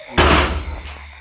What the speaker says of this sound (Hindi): दरवाज़ा ही बंद हो गया।